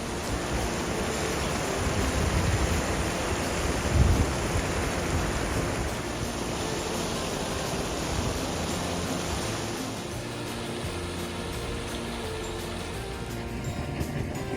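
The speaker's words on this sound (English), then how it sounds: "it's boiling all the time, bubbles that are crystal clear." Steady dense bubbling and gurgling of a boiling geothermal hot spring in Yunnan, about 92.6 degrees, continuous and fairly loud throughout, with a faint high whine running over the top.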